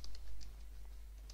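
A short burst of typing on a computer keyboard while DiskPart commands are entered: a few sharp key clicks over a low, steady hum.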